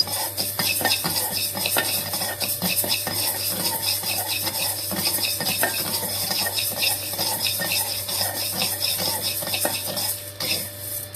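Rice and a couple of peppercorns dry roasting in a pan for baby food, with steady scraping stirs and light crackling sizzle continuing close and fairly loud throughout.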